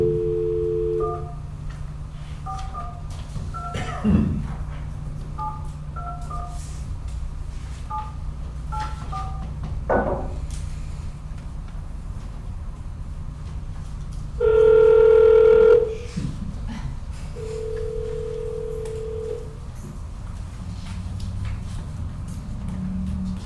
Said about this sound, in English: Hey, John, you're on speakerphone at the workshop meeting